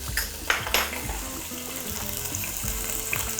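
Half a teaspoon of coriander seeds and a teaspoon of black peppercorns dry-roast in a pan, with a light crackling rattle and scraping stirs near and clear, no voices.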